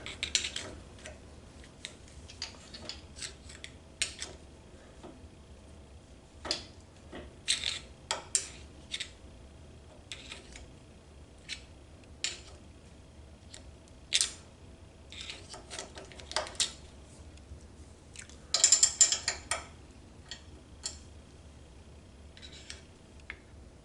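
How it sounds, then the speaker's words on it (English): A screwdriver lines up a washer inside a motorcycle foot peg mount. Sparse metallic clicks and scrapes come close and quiet, scattered irregularly over a long stretch, with a brief louder clatter near the end. "I'm using the screwdriver to help line up that washer on the inside and get everything centered out"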